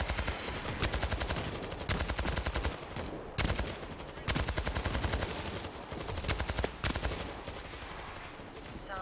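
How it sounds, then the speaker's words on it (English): Sustained gunfire rattles through a World War Z: Aftermath zombie battle, dense rapid bursts of automatic fire overlapping almost without pause, loud and close, with a voice occasionally shouting beneath the shooting. "Stop shooting!"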